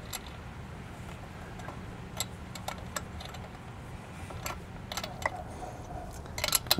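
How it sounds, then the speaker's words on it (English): A 7/16 wrench tightens a hose fitting on a Wheel Masters four-hose inflation kit mounted on a 2022 Jayco Alante motorhome, giving faint, irregular metallic ticks and clicks over a low background hum. "we can take a 7/16 wrench and just fully tighten that down"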